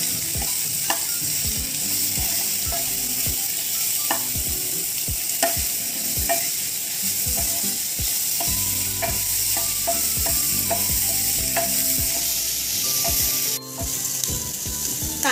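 Chopped onions sautéing in hot oil in a kadhai, a steady close sizzle with repeated scraping and stirring knocks of a spatula throughout, no talking.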